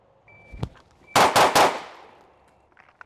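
Three quick handgun shots fired in rapid succession at a shooting range while point shooting at a target, loud and close, with a sharper click or shot just before and faint handling noises afterward.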